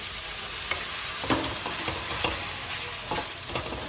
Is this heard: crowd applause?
no